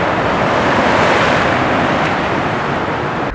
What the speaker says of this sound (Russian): В этот момент волны достигали 4-метровой высоты.